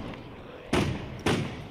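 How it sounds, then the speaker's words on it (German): Gunshots striking the player in the survival game SCUM: two sharp, loud booming impacts about half a second apart, each with a brief ringing tail over a low background hum. "Der hat mir jetzt einen ordentlichen Schuss gegeben."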